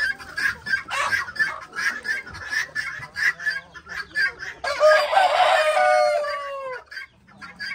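Chickens on their night roost cluck in a steady close chorus, then a rooster lets out one long loud crow near the end, with no voices over them.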